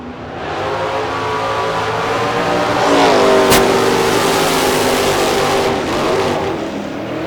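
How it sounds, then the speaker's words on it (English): A foot-brake drag racing car in the semifinals revs hard on the throttle, a loud sustained engine roar with rising harmonics that peaks mid-clip, heard alone at a drag strip with no talk. "you can hear her whomping on the throttle down there"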